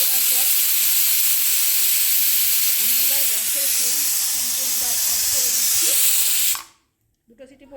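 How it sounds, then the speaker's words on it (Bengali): A pressure cooker whistle blasts a loud, steady hiss of escaping steam while cooking aloo dum, with a voice talking under it, then cuts off abruptly, leaving near silence and faint clatter. "তো দেখো আরেকটা সিটি ধরে গেছে তো আরেকটা সিটি পড়ে যাক"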